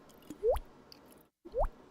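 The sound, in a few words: synthesized water drop sound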